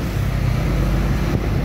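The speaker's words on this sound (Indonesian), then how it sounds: "Aduh, ada mobil." A car on an Indonesian street, its broadband engine and road rumble steady and fairly close throughout a short stretch, with no talk over it.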